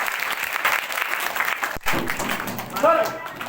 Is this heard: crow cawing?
no